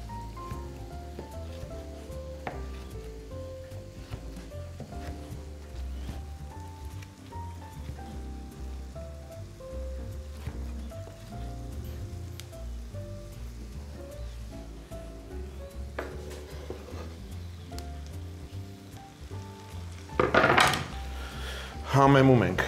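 Sorrel, cut into portions, frying in a pan with the other ingredients; a steady, soft sizzle runs beneath background music, with a louder burst of clatter and hiss near the end.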